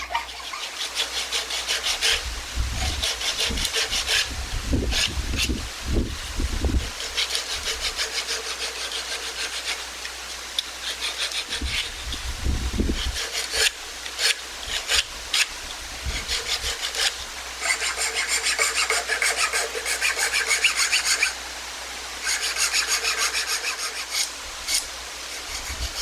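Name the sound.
filing and rasping a wooden flame finial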